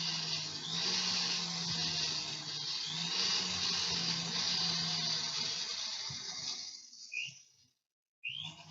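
A rotary tool fitted with a hard burr grinds the surface of a cut stone, giving a close, steady high-pitched whine with a gritty edge. The grinding drops out near the end, then briefly starts up again.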